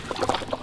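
Water splashing and sloshing as a radio comedy sound effect, a short burst of close, bubbly liquid sloshes lasting under a second with no talk over it.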